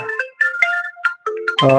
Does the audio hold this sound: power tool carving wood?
no